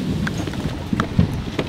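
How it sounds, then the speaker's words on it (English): Heavy rain pouring down outside an apartment, a dense continuous patter with a few louder drops and knocks scattered through, close and steady, with no voices. "as you can see, it's pouring down raining outside"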